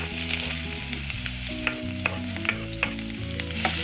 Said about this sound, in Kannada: ಎಣ್ಣೆಗೆ ಇವಾಗ ಈರುಳ್ಳಿನ ಹಾಕಿ ಮೊದಲನೇದಾಗಿ ಬಾಡಿಸ್ಕೊತಾ ಇದ್ದೀನಿ